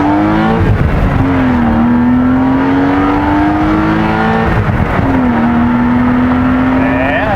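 A BMW M car accelerates hard from 0 to 60, its engine note climbing steadily through the gears with a brief dip at a shift, loud and close from inside the cabin.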